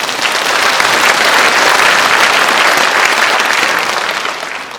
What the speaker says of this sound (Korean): 한번 자축하는 박수를 한번.